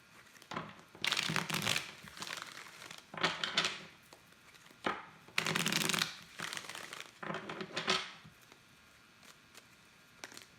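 Tarot cards being shuffled and pulled from a deck, with bursts of crinkly riffling and rustling handling separated by short quiet gaps, close and fairly soft, with no talk.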